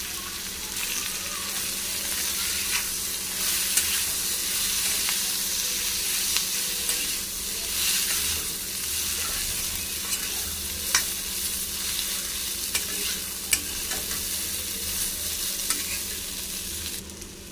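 Kakrol (spiny gourd) fries in a pan with grated coconut, a steady close sizzle with occasional clicks and scrapes of stirring, continuous and unbroken with no one speaking.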